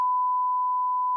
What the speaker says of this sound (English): That's a long beep right there.